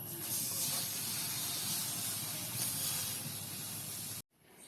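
Turmeric-leaf ada, a Kerala snack of batter wrapped in turmeric leaves, cooks on a hot pan with a steady, loud, hissing sizzle that runs nearly unbroken before cutting off abruptly near the end.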